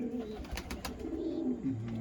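Several pigeons at a pigeon show coo in soft, low, rolling calls, close and continuous, with faint bird noise around them.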